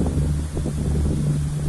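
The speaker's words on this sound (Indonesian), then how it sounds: "Kondisi saat ini hujan mulai turun, angin pun mulai berhembus" Wind gusts over the Gajah Mungkur reservoir as a tornado forms and rain begins, a steady, close, rumbling buffet against the microphone with no voices.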